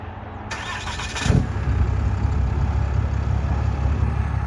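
A Dodge Ram 2500 pickup engine cranks briefly and fires up, then settles into a loud, steady rumbling idle close at hand.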